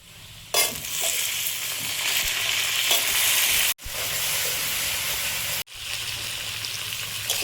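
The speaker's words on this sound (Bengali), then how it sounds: "আলুটা হাফ ভাজা হয়েছে, এবার কলা দিয়ে দেবো" Half-fried potatoes and raw banana sizzle loudly in a pan, the crackling frying bursting in abruptly after a moment of quiet and then running steadily, with two very brief dropouts.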